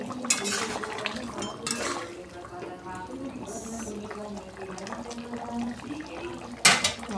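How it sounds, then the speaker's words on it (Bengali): A lid is lifted off a cooking pot of simmering meat, giving one brief sharp clank near the end, heard under steady talking. "দশ মিনিট হয়ে গেছে, আমি এখন ঢাকনা তুলে নেব।"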